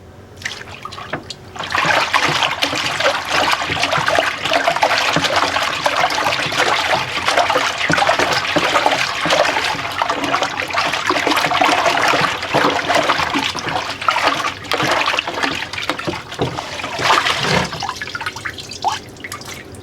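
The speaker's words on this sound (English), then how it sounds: "I'm going to place this in the bucket, in the water here, and I'm just going to twist it back and forth" An air filter twisted back and forth in a bucket of water, giving continuous loud sloshing and swirling water with trickles and splashes, close up, stopping briefly near the end before resuming.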